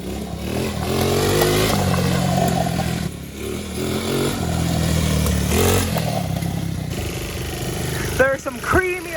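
Quad ATV engine fitted with new parts, running loud and revving hard at full power over a steady rough drone, with people talking over it near the end.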